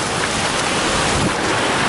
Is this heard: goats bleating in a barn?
no